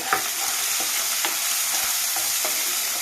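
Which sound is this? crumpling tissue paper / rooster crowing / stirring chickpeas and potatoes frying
stirring chickpeas and potatoes frying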